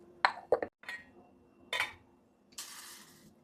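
Chicken heart salad seasoned with black pepper and salt being mixed in a bowl, heard as a few sharp spoon clinks and scrapes against the dish, with brief pauses and a soft rustle toward the end.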